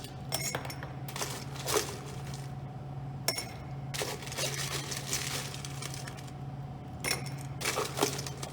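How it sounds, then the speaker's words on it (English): Ice cubes clink and rattle into a glass cocktail mixing glass for an Old Fashioned, in several scattered bursts of sharp knocks against a quiet room hum. "And then I'm going to top my mixing glass with ice."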